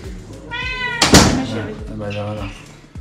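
A cat at the Rennes animal shelter gives two clear, close meows, with a sharp knock or thump between them and a person talking in the background.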